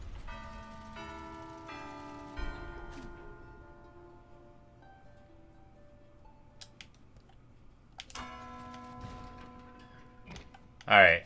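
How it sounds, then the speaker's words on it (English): Bells ring out one at a time in a Silksong puzzle, each a clear, sustained chime with a slow decay. Several strikes come in a short sequence early on, a pause follows, then more chimes near the end, with faint background game sounds. "I'm supposed to pay attention to which bells ring."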